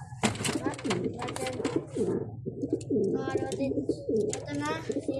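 Pigeons scuffle nearby, with repeated cooing and bursts of flapping and rustling in quick, irregular succession, loud and close throughout.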